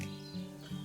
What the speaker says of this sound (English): there's birds in the market